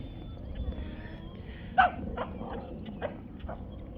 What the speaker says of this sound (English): And that noise you hear is Pearl over there terrorizing a cat.